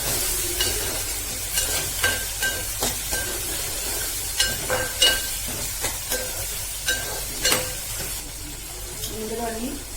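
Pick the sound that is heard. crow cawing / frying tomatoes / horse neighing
frying tomatoes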